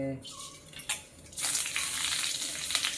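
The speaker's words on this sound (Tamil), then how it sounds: "பட்டை, கிராம்பு, இந்த நட்சத்திரப்பூ, கல்பாசி எல்லாமே போட்டிருக்கு. பொரியட்டும்." Whole spices (cinnamon, cloves, star anise, stone flower and fennel) dropped into hot oil in a heated pan start sizzling, a steady crackling hiss that swells after a quiet moment with a few brief clinks before it.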